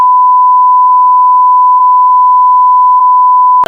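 A censor beep added in editing sounds as one loud, steady pure tone held for over three seconds and cut off abruptly, followed by a brief burst of sound.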